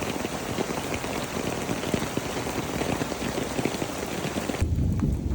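Steady rain drums on a 12x12 Kodiak canvas glamping tent, a dense, even patter that holds close and constant throughout, with the tone thinning abruptly near the end.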